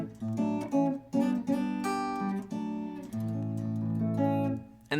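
Electric guitar through a Quilter Tone Block 202 amp miked with an SM57, playing sustained chords and single-note lines with clear harmonic ringing, close and alone.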